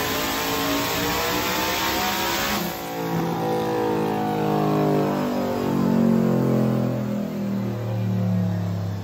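A 2,000hp Ford Coyote V8 engine on its first run, revving loudly and steadily at close range, its roar swelling and settling with no voices over it.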